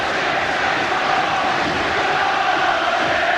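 A large football crowd roars steadily through the evening Barnsley v Manchester United FA Cup fifth round replay, a dense continuous wash of stadium cheering with no clear breaks.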